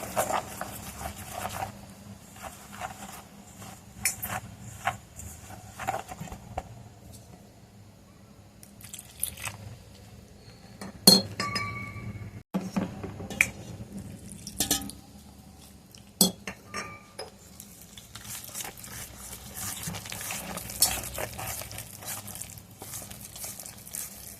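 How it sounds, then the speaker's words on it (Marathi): A spoon works through vada pav batter in a bowl, giving repeated soft clinks and wet scraping knocks against the bowl, close up and steady with no talk. "मिक्स करत जायचं आहे बघा गाठी वगैरे पकडू नाही द्यायच्या"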